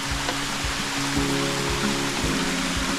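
A small stream flows through deep hill jungle in Bandarban, a steady rushing water sound with some low thumps, heard alone without talking.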